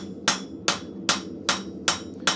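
A blacksmith works hot metal at the forge with a ball peen hammer, striking in a spiral pattern: six evenly spaced, sharp ringing blows land about every 0.4 seconds, each decaying quickly before the next.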